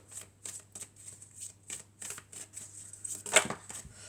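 Tarot cards being shuffled and drawn: a series of soft, quick papery riffles and flicks at a fairly regular pace, close and quiet, ending in a sharper snap of cards near the end.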